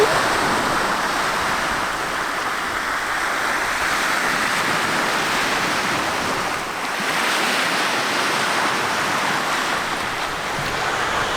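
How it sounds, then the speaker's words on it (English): Steady ocean surf washes onto a Greek beach, a continuous broadband roar of breaking waves with a little wind, loud and close, with no voices. "So this has been a good little introduction to a nice Greek beach."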